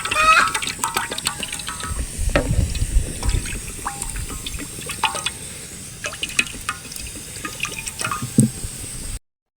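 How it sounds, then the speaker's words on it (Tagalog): Water poured out for a cooking meal, with wet drips, trickles and splashes running fairly steadily at close range and no talking over it. "magbubo na tag tubig"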